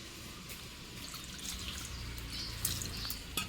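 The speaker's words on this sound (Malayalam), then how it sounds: "ഇനി അതിലേക്ക് കുറച്ചും കൂടി വെള്ളം ഒഴിച്ചു കൊടുക്കുക" Faint water trickles and pours in a soft, steady stream into a pressure cooker holding jackfruit, with a few light splashes and clinks near the end.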